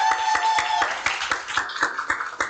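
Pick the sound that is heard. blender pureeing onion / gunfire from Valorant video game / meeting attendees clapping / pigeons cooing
meeting attendees clapping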